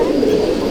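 Purebred Hazarwala Punjabi pigeons coo in a steady, unbroken murmur, close and fairly loud, with no talk over it.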